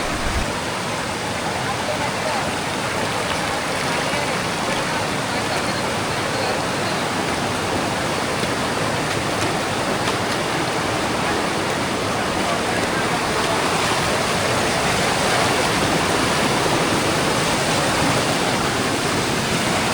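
Rushing water at Devkund waterfall in Maharashtra during the monsoon roars as a loud, constant broadband wash, close by and unbroken throughout, with faint voices beneath it.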